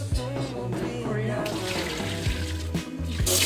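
Cold water running from a kitchen tap while cooking, a steady splashing stream heard close up, with a person talking over it.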